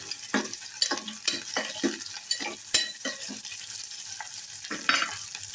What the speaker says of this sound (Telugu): పొడువుగా కట్ చేసుకున్న ఆనియన్స్ను వేసుకొని ఆనియన్ వేగిన తర్వాత